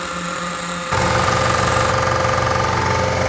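Nitro RC buggy engine during break-in, a high buzzing whine that jumps abruptly louder about a second in, then runs steady and rattling close by.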